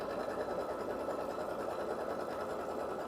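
A sewing machine runs steadily with dark teal thread, stitching a two-ply tacking stitch around a fabric square; its motor hums at an even whir for the whole stretch, close by and with no talking.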